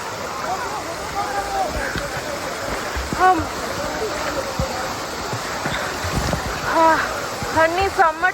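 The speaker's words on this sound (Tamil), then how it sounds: "பாருங்க நாங்க எவ்வளோ பக்கத்துல ஃபால்ஸ்ல இருக்கோம்னு." Dudhsagar waterfall in Goa roars up close as a loud, steady rush of water, with people talking over it throughout.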